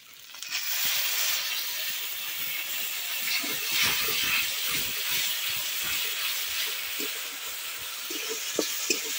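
Tomato paste and spices frying in hot oil in a pan for an echor chingri (jackfruit and prawn) curry, a loud continuous sizzling hiss with scattered crackles and pops throughout.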